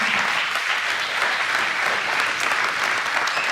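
Steady applause from a church congregation during a sermon, dense and continuous, filling the room at even loudness with no speech over it.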